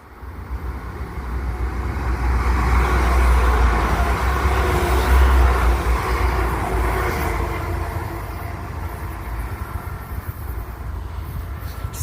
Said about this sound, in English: there's some like cargo trains down there